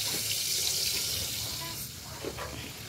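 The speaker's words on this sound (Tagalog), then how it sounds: "kunin natin yung kumukulong tubig. So ito, tara, buhusan natin." Boiling water poured from above over caps being restored, a steady close splashing wash that stays constant and then eases slightly, with faint background voices.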